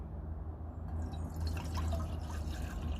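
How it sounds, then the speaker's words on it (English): Water poured into a cooking pot inside a van, a soft trickling and splashing fill that grows slightly fuller over a few seconds, quiet and close. "just like at home, pour your water in"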